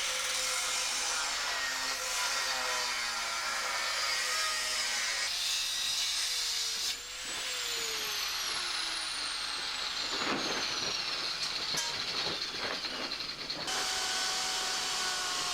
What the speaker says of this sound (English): Drilled these 2 holes